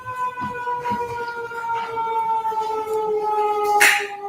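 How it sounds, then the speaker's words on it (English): A wailing siren holds steady tones in the distance, with rumbling traffic beneath and a brief burst of noise near the end. "I was just waiting for the siren"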